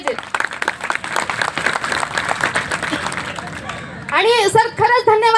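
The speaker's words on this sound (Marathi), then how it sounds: "सगळ्यांनी जोरदार एकदा टाळ्या वाजवल्या पाहिजेत." Dense, loud audience applause fills a public speech event about the Chief Minister's youth work training scheme and its trainees, lasting about four seconds before a single voice begins speaking.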